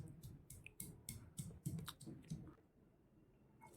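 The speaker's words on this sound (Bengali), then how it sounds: "রসুনটা এবার আমি বেটে নেব" Garlic ground on a flat stone grinding slab (shil) for a Bengali potol chingri dish makes a run of soft wet squishing, scraping strokes, close and quiet, then fades into near silence.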